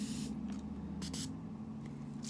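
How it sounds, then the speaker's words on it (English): A makeup setting spray bottle pumped close by, releasing two or three short, soft hissing bursts of mist over a low steady background hum, with no talking. "Let me show you guys this spray on this one."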